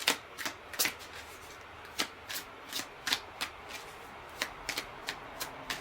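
A tarot card deck being shuffled by hand, quiet and close, with soft riffling bursts and crisp card snaps recurring at an irregular pace, with no speech over it.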